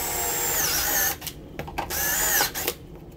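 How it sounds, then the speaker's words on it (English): A step drill bit bores into a metal electrical panel with a high, screaming whine that rises and falls, then breaks into short bursts with quiet gaps as the bit cuts through, close and loud. "I will need to drill this new cord into the panel, so I'm just gonna take a step down bit and run it across."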